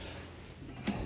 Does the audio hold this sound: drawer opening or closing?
yes